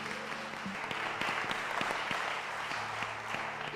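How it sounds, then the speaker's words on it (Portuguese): A church congregation at a special service claps for the Lord, a continuous patter of many hands with a few sharper claps standing out, moderately close and unaccompanied by speech. "Você pode aplaudir ao Senhor."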